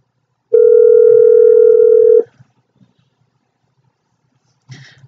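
A single long ringback tone purrs loud and steady for about a second and a half while a call is placed, then stops, followed by quiet and a brief faint click near the end.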